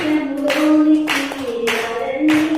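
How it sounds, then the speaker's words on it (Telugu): Audience at a church sermon gathering clapping in repeated bursts, loud and close, with a sung or spoken voice running underneath. "చప్పట్లు చప్పట్లు చప్పట్లు."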